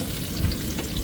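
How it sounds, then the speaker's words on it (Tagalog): Garlic and onion frying in hot oil, a dense, loud, steady sizzle filling the whole moment close up with no voices. "magpapainit na po tayo ng mantika. Lagyan na ang bawang, panibagong bawang ang sibuyas"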